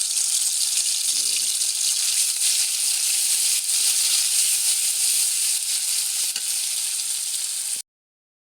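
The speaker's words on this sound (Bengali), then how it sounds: "কড়াইতে তেল দিয়েছি, এখন পেঁয়াজ রসুন জিরা বাটা" Onion, garlic and cumin paste sizzles in hot oil in a wok, a steady, close, loud frying hiss that runs unbroken for nearly eight seconds before cutting off.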